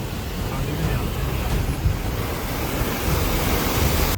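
Fast-flowing river water in Ladakh rushes in a steady, dense roar, with some wind buffeting the microphone.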